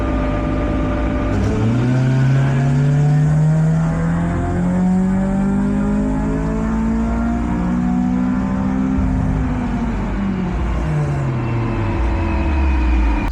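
A Honda Integra flex-fuel engine revs hard on a dyno, its loud droning pitch climbing steadily through a long pull before easing back down, heard close.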